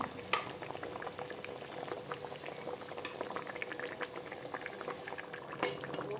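Shol (snakehead) fish curry bubbling steadily in a pan, a dense continuous boil of small popping bubbles with an occasional faint clink of a utensil, close and fairly quiet, no voices.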